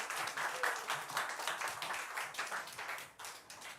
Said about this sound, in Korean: 우리 유스에게 다시 한번 뜨거운 박수 부탁드립니다